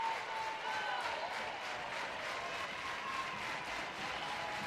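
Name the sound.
softball game crowd cheering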